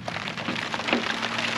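Rain falls steadily at an outdoor shooting range, a dense close patter of drops on surfaces with no pauses.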